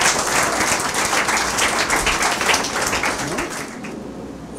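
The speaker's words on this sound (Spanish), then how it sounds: "De un aplauso al Señor Jesús" A congregation applauding for Jesus during a church sermon, sustained dense clapping that fades out near the end.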